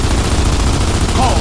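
Gunfire from the video game Gears of War 2, a dense, continuous burst of automatic shots that stays loud and steady throughout, with a voice partly mixed in underneath.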